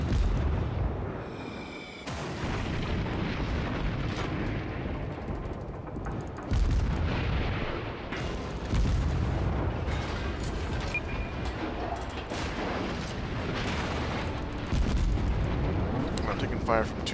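Naval gunfire striking a warship in the World of Warships game, with heavy booming impacts and rumbling explosions rolling continuously under a dense battle din.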